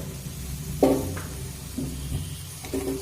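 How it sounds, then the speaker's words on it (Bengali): Chopped tomatoes stirred into a pan of frying green chillies over a medium flame for a paneer tadka, with soft scraping stirs and a low steady sizzle, close and moderately quiet. "দিয়ে আবারও এক থেকে দু মিনিট মিডিয়াম ফ্লেম করে নাড়াচাড়া করে নেব"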